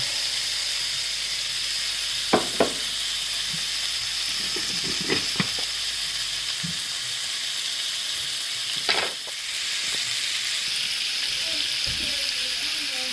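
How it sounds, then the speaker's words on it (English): Bacon frying in a pan sizzles with a steady broadband hiss, while a few sharp clicks and utensil taps break through now and then. "Now I'm just going to cook the bacon down"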